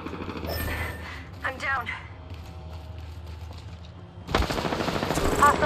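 Video game gunfire with a tactical squad, a loud burst of automatic fire arriving abruptly in the last seconds and running dense and sustained to the end, with a voice speaking briefly earlier over quieter background.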